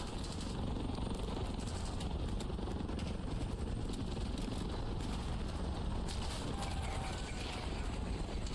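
A helicopter in the Call of Duty Black Ops 6 campaign gives off a continuous low mechanical rumble and rotor chatter, steady and fairly faint, with clicking, ratcheting machine noise layered throughout.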